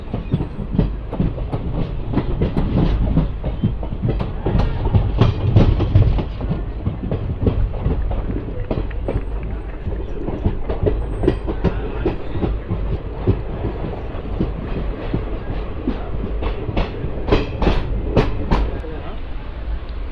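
A passenger train nearing Pathapatnam station clatters along the tracks, with loud, close, continuous rumble and a steady clickety-clack of wheels over rail joints, and faint voices at times underneath.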